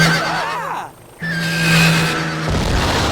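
A cartoon horse neighs loudly in a comedy sketch, a clear whinny with a falling pitch sweep, followed by a brief gap and a steadier sustained cry over busy background sound.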